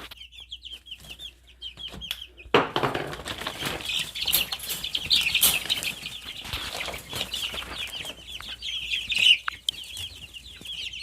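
Chickens at a small home farm project cluck and chatter steadily, with a burst of wing flapping and rustling midway and louder calls continuing nearby, no talk.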